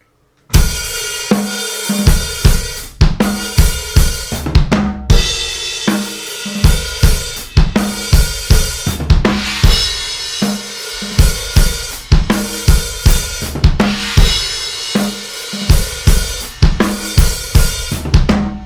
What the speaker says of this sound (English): we switch to more of the open hi-hat feel for the timekeeping in the right hand